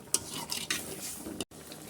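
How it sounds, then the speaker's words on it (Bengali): Potatoes sautéed in a pan in a home kitchen, a soft sizzle broken by several spatula scrapes and clinks against the pan, with a brief gap near the end. "আলুটা দিয়ে আগে কষাই আমি।"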